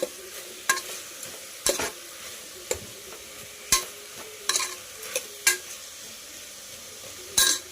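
Broad bean curry being stirred in a pan, a gentle frying sizzle underneath and a series of sharp spoon clanks against the pan at irregular intervals, close and distinct with no talking.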